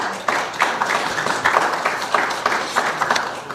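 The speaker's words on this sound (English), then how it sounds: "Essex County Prosecutor Theodore Stevens another round of applause, please." Steady applause from a crowd at an awards ceremony, dense clapping with scattered sharper claps, continuing without voices.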